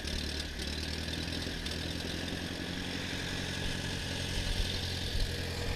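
A Massey Ferguson 50 tractor engine idles steadily nearby, a constant low rumbling chug with no talk over it.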